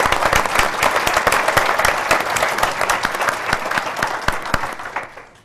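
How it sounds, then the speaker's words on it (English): An audience at a civic club panel event gives a round of applause, loud and dense, with sharp individual claps standing out. It thins and fades out near the end. "Can we get a round of applause, please?"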